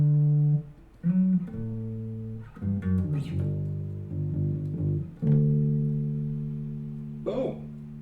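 A bass guitar plays a short lick from a song: sustained low notes with slides and fretted changes, a few plucked attacks and gaps between phrases, close and clean with no talking.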